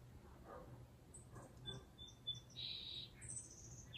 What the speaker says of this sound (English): These little tiny teeny birds, I don't know what, I'm not a bird person, I don't know what they are